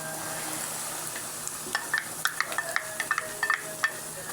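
Potatoes are stirred in a frying pot during a dolma and chicken meal: a spoon makes a series of irregular clicks and scrapes against the metal over a low, steady sizzle, close and moderately loud, with no talking.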